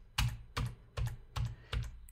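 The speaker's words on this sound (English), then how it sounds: "I'm just going to step through it one frame at a time using the keyboard" Five evenly spaced computer keyboard key presses step a dash cam recording forward frame by frame, each a crisp close click in a steady rhythm in a quiet room.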